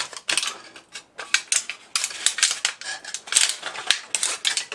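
Foil wrapping around a heat-treated CPM 154 stainless steel knife blade is pulled open, producing close, loud bursts of crinkling and crackling in an irregular rhythm, with no speech.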